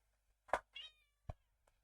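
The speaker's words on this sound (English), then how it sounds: "Excuse me 1 second, my cat." Domestic cat meowing nearby, two quick meows followed by a couple of short fainter chirps, alone in a quiet room.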